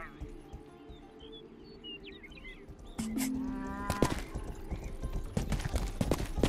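Horse hooves clip-clopping in the medieval video game Rustler, a steady trotting rhythm that grows louder after a few seconds, mixed with game sounds and someone talking over it.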